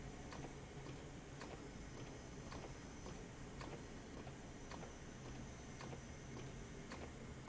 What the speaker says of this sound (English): I actually quite like the noise of that wiper